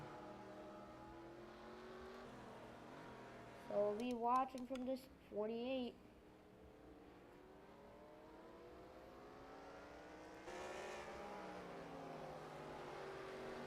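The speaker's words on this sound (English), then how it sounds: "watch and enjoy the sound of these race cars" NASCAR stock cars race around Circuit of the Americas in a sim racing game, engines droning and rising and falling as cars pass, with a voice briefly talking over the steady engine noise.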